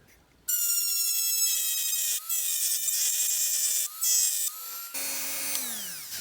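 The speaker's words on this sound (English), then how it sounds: "I'm going to have to get the Dremel on that and grind it out." A Dremel rotary tool grinds at the metal of a die-cast Dinky Toys 412 Bedford CF van, a high, steady whine broken by short pauses and bursts of contact, close and loud, winding down at the end.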